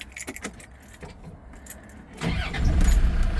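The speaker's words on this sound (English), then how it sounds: "let's start it up and you can hear that wonderful TD5 run" A diesel Land Rover Defender 90 TD5 County Hard Top: keys jangle faintly and there is light handling noise, then about two seconds in the engine catches and settles into a loud, rumbling low idle, close by.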